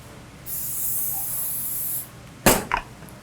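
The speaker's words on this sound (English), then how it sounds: "put it in a pan, spray it" A steady spray of cooking spray hisses into a pan for about a second and a half, then two short sharp spritzes follow, close and fairly loud.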